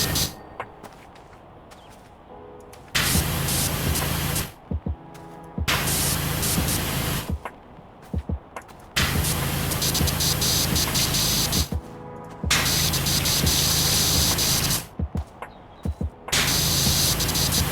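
A pressure washer sprays in the video game Powerwash Simulator, loud hissing bursts of spray in long stretches broken by brief pauses, close and dominant.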